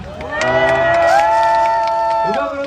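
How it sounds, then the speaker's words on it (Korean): A crowd at a KBS Cool FM public broadcast at the Uiryeong festival answers with another round of high-pitched cheering and screams, loud and sustained for a couple of seconds before tapering off. "다시 한번 환호 부탁드리겠습니다"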